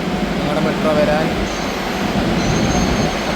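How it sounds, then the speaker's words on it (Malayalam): Metro train pulling into a station platform: a steady low rumble of wheels and motors fills the space with faint squeal, continuous and fairly loud. "മെട്രോ വന്നു."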